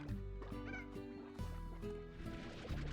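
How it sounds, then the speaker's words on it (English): Hens cluck in the video game Slime Rancher, with a few short bird calls over steady, tonal game music. "Gonna collect the hen. Well, the chicken."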